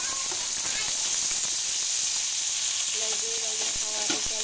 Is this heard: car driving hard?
no